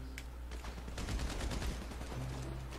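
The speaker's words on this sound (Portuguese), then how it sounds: "Ai, caraca, levei um tiro." Gunfire rattles in GTA V Online on Xbox 360 as a mansion shootout goes on, with dense bursts of rapid shots that build to a heavy fusillade in the middle before easing off.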